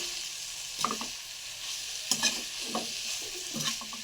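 Drumstick leaves and fresh grated coconut are stirred in a pan over low heat, with a soft steady sizzle broken by several scraping strokes of a spoon, close and moderately quiet.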